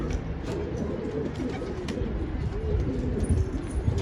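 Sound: wild bird and its chicks cooing

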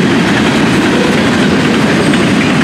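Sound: train passing

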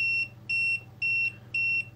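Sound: multimeter beeping slowly at three bars

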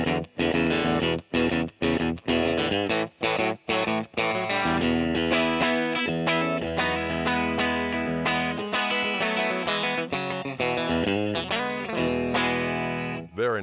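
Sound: Fender 1959 Stratocaster Relic electric guitar, bridge pickup alone

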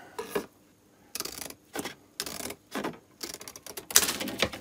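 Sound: cutting Rulon material sheet

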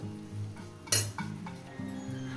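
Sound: stirring fried rice in a pan

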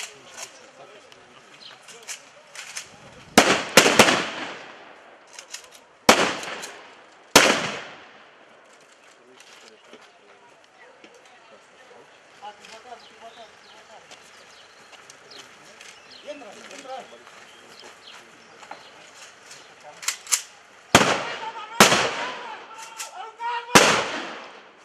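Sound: gunshots during a gendarmerie training exercise

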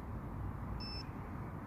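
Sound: carp fishing bite alarm beeping

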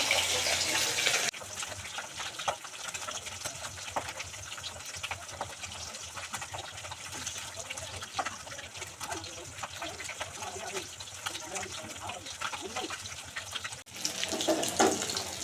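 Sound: water running from a tap

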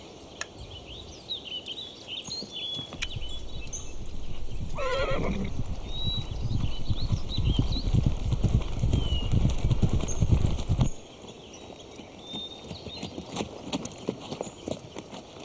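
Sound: horse neighing and hooves clip-clopping

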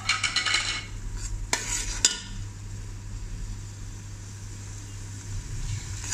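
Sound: tomatoes being stirred and fried in a pan

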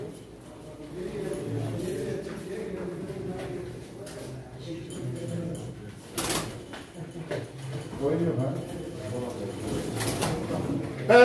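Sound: pigeons cooing at a pigeon auction

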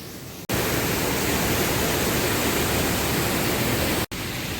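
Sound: rushing stream water near waterfall

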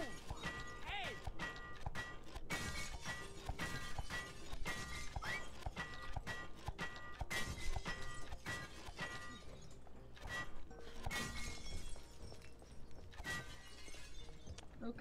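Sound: glass shattering being destroyed in the video game It Takes Two

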